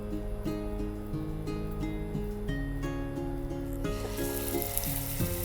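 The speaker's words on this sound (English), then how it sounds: "now that our ghee is heated up, I've got a bowl with some water in it" Galouti kebab patties fry in hot ghee, giving a steady close sizzle and crackle with bright harmonic tones running through it and no talking.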